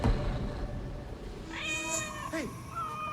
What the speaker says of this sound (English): I just wanted to pet the cat, don't worry about it.